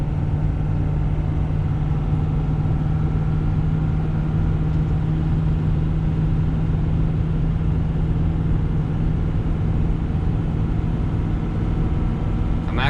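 A 2021 Ford F450 pickup towing 32,000 pounds drones along in seventh gear, its engine a steady low hum with a constant tone under road rumble from inside the cab.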